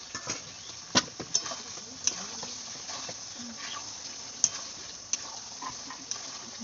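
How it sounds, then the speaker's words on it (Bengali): Goat meat fries quietly in a pan, with a low steady sizzle broken by occasional sharp taps and scrapes of a spoon stirring. "এবার কড়াইয়ে দিয়ে অনেকক্ষণ দিয়ে নাড়াচাড়া করবো"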